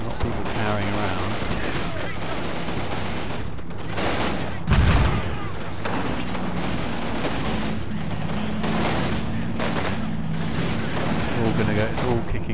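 Mortar shells and gunfire rumble through a Combat Mission: Battle for Normandy battle, with dense continuous shooting, a heavy thump near the middle, and someone talking over the din throughout.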